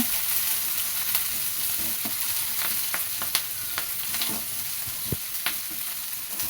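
Onions, green chillies and curry leaves fry in oil in a pan, stirred: continuous dense sizzle with occasional light spoon taps and scrapes, close by, no talking.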